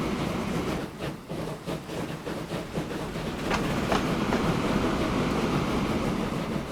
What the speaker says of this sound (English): You're a goods train.